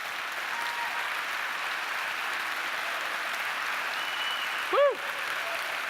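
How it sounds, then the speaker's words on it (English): Steady applause from an indoor audience at a games-industry talk, continuing evenly throughout with a short whoop near the end. "Let's give them a round of applause."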